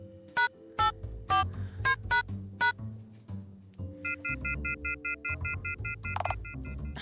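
A telephone keypad is dialed in the Dialtown video game: a run of separate, distinct beeping key tones at the start, then a steady pulsing tone pattern, with low hum beneath.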